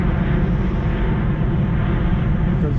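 Thai Airways Boeing 747 airliner passing overhead near Heathrow airport, a loud, steady, broadband jet roar that fills the whole moment without a break.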